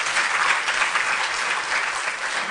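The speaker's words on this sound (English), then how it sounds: "Could you give her a round of applause, please?" Sustained, even audience applause fills a conference hall at a women in environmental sciences event, close and dense throughout with no talk over it.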